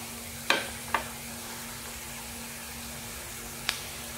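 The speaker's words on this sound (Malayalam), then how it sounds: "ഇനി അടിച്ചെടുത്ത മുട്ട നമുക്ക് പാനിലേക്ക് ഒഴിച്ചു കൊടുക്കാം." Beaten egg in a hot pan for chicken spaghetti, giving a soft, low steady sizzle over a constant hum, with three sharp tapping clicks, two close together near the start and one later.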